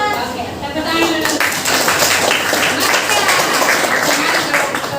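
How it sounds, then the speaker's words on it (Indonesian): Students in a classroom clap their hands together, a dense, steady patter of many small claps sustained throughout, mixed with scattered voices and chatter in the room. "tepuk tangan dulu"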